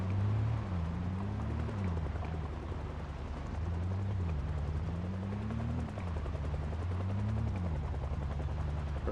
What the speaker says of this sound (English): The chopper sounds left to me in game